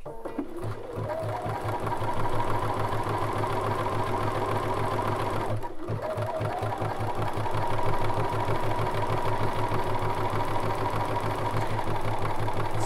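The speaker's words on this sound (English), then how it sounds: "when we start stitching, it's going to start rolling the fabric because of the stitch we're working with" Bernina sewing machine running with a #3 buttonhole foot, a loud, steady, rapid stitching whir with a fast needle beat that pauses for a split second midway, then continues, with no talking.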